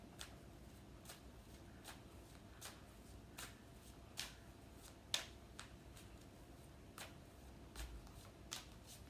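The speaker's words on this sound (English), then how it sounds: "Sorry, it's a bit boring for you, this part of shuffling." A deck of cards is shuffled repeatedly, each riffle a short crisp burst of flicking and snapping at a steady, unhurried rhythm, close and fairly quiet with soft room noise between passes.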